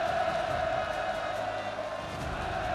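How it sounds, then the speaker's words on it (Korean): A large crowd cheers and roars continuously at Kim Jong Un's arrival at the DPRK Academy of Defence Science, a dense, steady wall of voices and whoops sustained throughout. "김정은 동지께서 도착하시자 열광의 환호가 세차게 분출했습니다"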